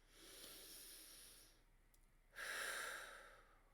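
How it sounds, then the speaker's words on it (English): A single deep, audible breath, a long drawn inhale followed by a louder, forceful exhale, close and alone with no talking. "That's a great breath, right? It's a very obvious breath."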